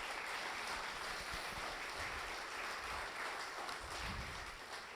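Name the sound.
congregation applause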